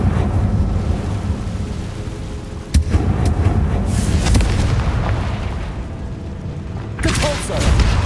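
Confringo fire spell explosion in the Hogwarts Legacy video game: a series of loud booms and sharp cracks over a constant heavy rumble, with a final burst near the end and a voice speaking partly underneath.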